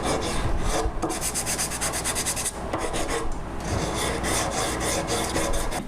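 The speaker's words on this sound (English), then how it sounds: "then I'll use the sanding machine to do the rest" A sanding machine works oak wood for a kitchen shelf, a loud, continuous abrasive rasp that pulses in rapid bursts with brief dips, close by and with no voices.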